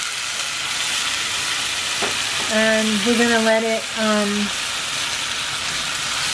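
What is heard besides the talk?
vegan scramble sizzling in a hot pan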